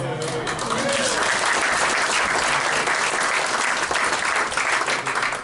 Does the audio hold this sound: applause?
yes